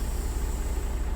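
A truck engine in American Truck Simulator idles with a steady, low, throbbing rumble, constant and close throughout, with no voices over it.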